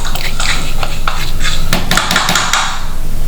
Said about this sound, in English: So we mix it again and then put on the lid and allow it to cook.